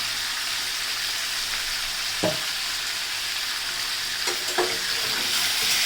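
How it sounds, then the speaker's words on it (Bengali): Fish frying in a pan for a chicken curry in a Bangladeshi home kitchen, a steady broadband sizzle heard up close, with a couple of brief stirring clinks and scrapes and no talking. "মাছগুলো একটু ভেজে নিব।"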